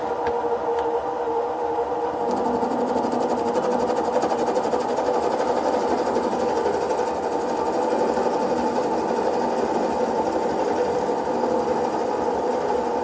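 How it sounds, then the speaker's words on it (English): A Microlex 7x16 mini lathe facing off metal with a small carbide tool makes a steady, continuous motor hum and cutting whine throughout, close and even, with no talking. "This is a Microlex 7x16 mini lathe, and I'm using the little carbide tools that you can get from Harbor Freight."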